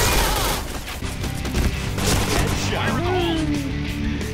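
Rapid machine gun fire in the Thai server of the shooter game Point Blank, dense sustained bursts with crashes and impacts layered over continuous game noise.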